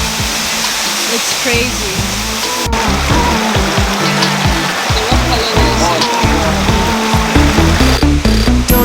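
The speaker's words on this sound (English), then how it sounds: "We moved to this side to get a better view of the waterfall." A hidden waterfall in Ghana roars as a steady, loud, broadband rush, with people talking over it and a thumping music beat running underneath.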